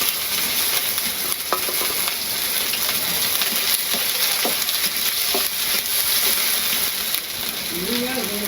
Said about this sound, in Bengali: এই যে পেঁয়াজ দিয়ে দিলাম